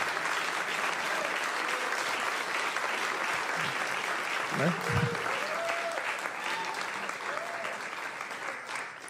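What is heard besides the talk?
audience applause for musicians at a concert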